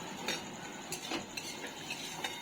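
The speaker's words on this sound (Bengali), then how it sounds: "নুন আর হলুদ দিয়ে আলুটাকে বেশ ভালো করে ভেজে নিলাম" Potatoes with turmeric and salt fry in a pan, a soft steady sizzle under a few light scrapes and clinks of a spoon stirring against the metal, fairly quiet and close.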